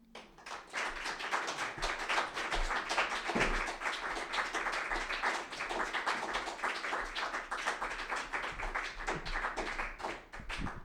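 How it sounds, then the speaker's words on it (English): A small audience at a live reading session claps for about ten seconds, a quick patter of overlapping handclaps heard from a little distance with no talking. "Can we give another round of applause?"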